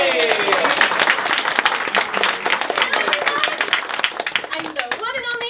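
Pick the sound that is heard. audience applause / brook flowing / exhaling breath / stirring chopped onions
audience applause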